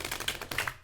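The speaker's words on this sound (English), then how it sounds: "I'm gonna shuffle all these cards really quick" A deck of tarot cards is shuffled by hand in quick, close, crisp riffling and tapping bursts, with no talking.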